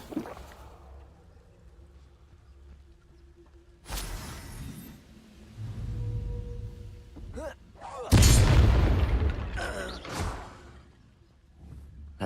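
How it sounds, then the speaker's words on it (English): Incendio fire spell cast in the Hogwarts Legacy game: bursts of crackling, whooshing flame and impacts, with a big loud blast near the middle followed by further bangs over a low game hum. "Incendio."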